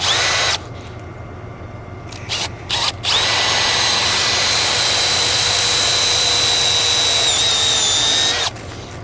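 A power drill whines loudly and close, boring a hole through rubber on a J50 vehicle, with short bursts at first followed by a long steady high-pitched run that cuts off near the end.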